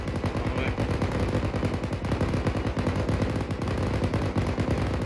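A tank's coaxial machine gun fires long sustained bursts during Marine Corps live-fire training, a dense, rapid, continuous rattle of shots that stays loud and close from start to finish.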